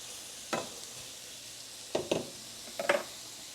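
Pineapple chunks heating in a pan with syrup give a few short sizzles and stirring scrapes, three separate bursts spread over a quiet, steady background.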